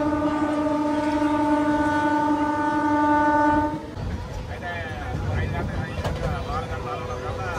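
A MEMU express train between Kakinada Port and Visakhapatnam sounds a long, steady horn-like tone for several seconds, then breaks into loud rumbling, rattling carriage noise with scattered clanks up close.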